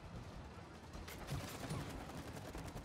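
Rapid, fairly faint gunfire in It Takes Two rattles off in quick, evenly spaced bursts beneath a steady wash of game noise, with no voices.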